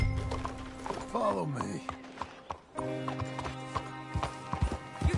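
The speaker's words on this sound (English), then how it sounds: "You got a horse? Get on it." Horse hooves clip-clop steadily in a PS4 video game, with a whinny near the start, while voices talk over the hoofbeats.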